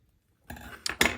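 Scissors snipping through gift wrap ribbon at close range, a brief soft rustle followed by two sharp metallic cutting clicks.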